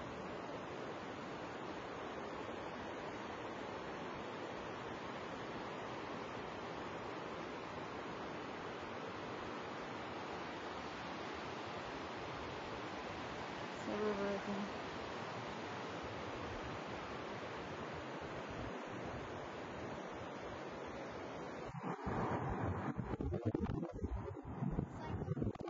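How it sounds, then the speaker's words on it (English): Broad steady rushing roar of a waterfall at Washburn in a granite canyon, constant and fairly loud throughout, with wind buffeting the microphone near the end. "This is the beginning of Washburn Waterfalls"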